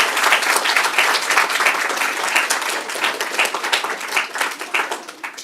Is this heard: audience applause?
yes